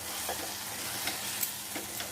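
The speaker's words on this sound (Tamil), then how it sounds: "இப்போ இதில் ஒரு கிட்டத்தட்ட ஒரு 2 tablespoon அளவுக்கு நான் மட்டர் சேர்த்துட்டுருக்கேன்" Green peas fry in a pan for khoya matar paneer gravy, giving a steady soft sizzle with faint crackles and occasional stirring scrapes.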